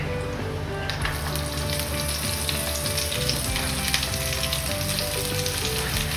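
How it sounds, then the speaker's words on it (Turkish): Vegetables such as red onion and colored peppers sautéing in fat in a pan, a steady close sizzle with crackling that holds evenly throughout, no voices. "Bu sefer de sebzelerimi sotelemeye başlıyorum."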